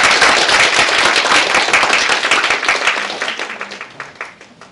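An audience at a parents' seminar for an education company claps loudly in a dense burst of applause that gradually thins out and fades over a few seconds.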